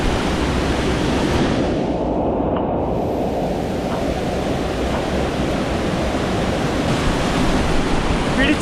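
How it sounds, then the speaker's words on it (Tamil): A waterfall reached on a river trek through a valley, roaring loud and constant with a broad rushing wash that fills the whole scene without pause. "water falls"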